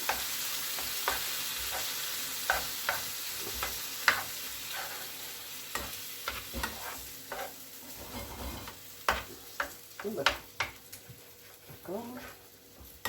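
Cheesy bread ingredients being stirred in a bowl, with scattered scraping and tapping strokes over a faint hiss, some louder clatters near the end, and occasional speech mixed in.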